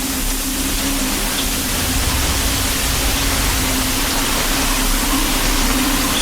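A bathroom shower running at full flow, a steady dense hiss of falling water with a low hum underneath, constant and close for several seconds with no voices.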